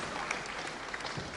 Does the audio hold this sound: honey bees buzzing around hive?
no